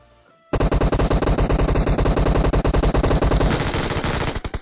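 Rapid automatic gunfire in a battle royale video game, a loud sustained burst of evenly spaced shots running for about four seconds after a brief quiet start, with a denser crackling stretch near the end.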